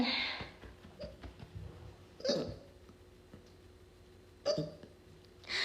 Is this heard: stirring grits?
no